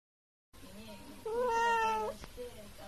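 A cat gives a drawn-out, rising-and-falling meow, close and clear, over a soft background hum, with a faint voice nearby.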